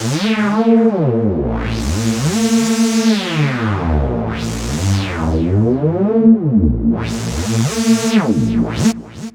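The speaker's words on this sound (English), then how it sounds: "there's this synth that goes up and down in pitch" A bright, buzzy lead synth in the style of a Nord Lead sweeps repeatedly up and down in pitch in loud, smooth glides, with no voices over it.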